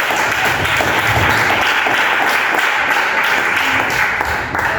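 A church congregation applauds steadily to welcome the preacher, a dense, loud, continuous wash of clapping.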